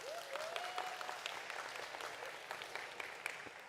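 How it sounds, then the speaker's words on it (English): Audience at a county fair and rodeo junior broiler and turkey show applauds the junior exhibitors, a faint but steady patter of clapping with a brief whistle-like tone near the start. "Let's give these juniors a round of applause."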